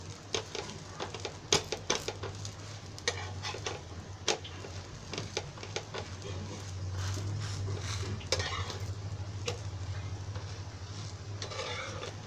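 A vari rice thalipeeth roasts in ghee on a hot pan, a low steady sizzle under frequent small clicks and taps of a utensil against the pan, up close and fairly quiet.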